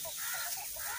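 Chickens on a Pakistani herder's farm cluck and chatter softly through a steady outdoor background, with a continuous murmur of calls over one second.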